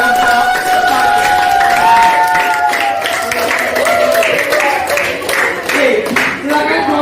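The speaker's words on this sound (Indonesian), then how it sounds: "Oke, beri tepuk tangan dulu." A class audience claps for a presenting group in a room. Steady, fairly loud applause runs the whole length with crowd murmur and talking layered over it.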